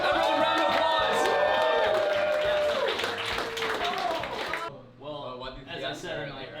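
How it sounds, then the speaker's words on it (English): Audience at a cooking competition claps and cheers for the announced winner, a loud burst of applause with whoops mixed with excited voices, then dropping off sharply as talk takes over near the end. "Everyone, round of applause!"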